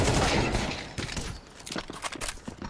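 AK-47 gunfire during a Counter-Strike esports match, rapid cracking bursts that come in uneven clusters amid game action and a busy background.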